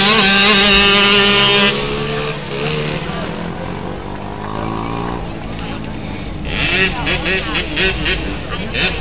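Dirt bikes at a drag race roar loudly with harmonic engine revving that rises and falls, a dense continuous mechanical drone across the whole stretch, with announcer-style talk mixed over the engines.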